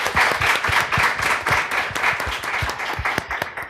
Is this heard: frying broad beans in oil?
no